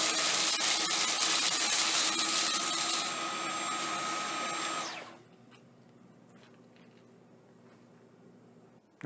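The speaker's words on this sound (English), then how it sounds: "we actually have a clip of the V11 using this cleaner head in low power mode" A Dyson V11 cordless vacuum fitted with its cleaner head runs on a bare floor in low power mode, giving a loud steady whir that drops in pitch and level partway through, then a softer hum that continues on its own.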